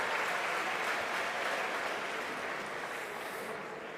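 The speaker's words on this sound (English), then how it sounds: "But a round of applause" Sustained audience applause at a live London grand-final competition show, steady dense clapping from a large crowd that holds loud throughout and tapers slightly toward the end, with no voices over it.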